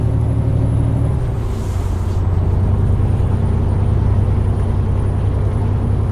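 Steady broadband wind roar and low road rumble fill a moving Renault truck cab, constant and loud throughout with no talk.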